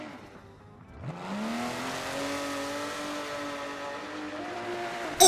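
Tires squeal as a race car power slides through a drift in a racing video game at Yas Marina, a sustained rising engine tone with a continuous screech holding steady for several seconds after a brief quieter lead-in.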